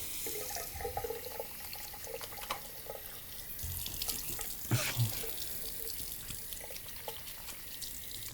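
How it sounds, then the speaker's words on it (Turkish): Tap water runs steadily into a bathroom sink while a face is being washed, a constant close splashing with small drips and hand splashes throughout, including a louder splash midway. "Ama öncelikle hadi yüzümüzü yıkayalım."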